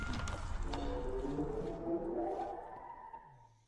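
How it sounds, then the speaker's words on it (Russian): Dolphin in Minecraft, a high-pitched whistling, chirping call with gliding tonal squeaks over a watery wash, close and clear, fading at the end. "Я дельфинчика нашел"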